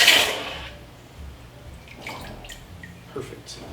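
A sharp hiss and sizzle bursts out as cherry-red hot steel is quenched in water, then fades into faint bubbling and drips while a person talks softly.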